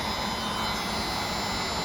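Hot air plastic welder blowing a steady, loud hiss of heated air while melting plastic to fuse two pieces together, continuous and close with no talking.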